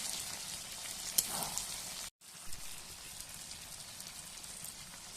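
Chicken being sautéed in a pan gives off a steady, moderately faint sizzle with crackling spatter, broken by one sharp scrape and a brief pause before the frying hiss resumes.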